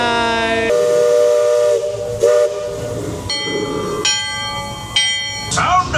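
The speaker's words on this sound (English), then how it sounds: "Releasing the steam." Disney's Liberty Belle riverboat sounds its steam whistle in loud, layered blasts at close range, with shorter whistle bursts and engine rumble following as it sets off past Tom Sawyer Island.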